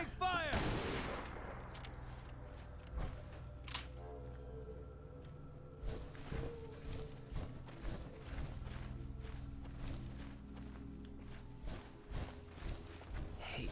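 Gunfire in the video game Fallout 4 during a fight at a boathouse: a loud opening blast followed by a series of sharper, scattered shots and impacts, with insect-like chirps underneath.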